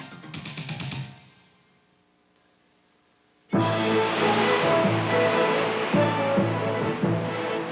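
Rough ocean water churns around a kayak, a brief rush of water that drops to near silence before a loud, continuous surge of turbulent splashing and roar takes over.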